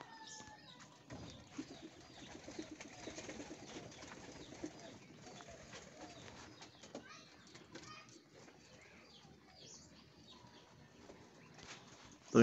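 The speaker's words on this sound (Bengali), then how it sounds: "আজকে আমার কবুতর আসছে 10টা" Racing pigeons back from a race coo near the loft over a busy background of fluttering wings and indistinct voices.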